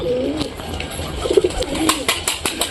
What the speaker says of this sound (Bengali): সব কবুতরগুলো বের হচ্ছে খোপের থেকে।